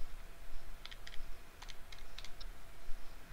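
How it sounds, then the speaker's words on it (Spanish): Fingers pressing keys on a scientific calculator, a few quick clusters of light plastic clicks spaced irregularly over a faint background hiss, with no talk. "Estoy tecleando."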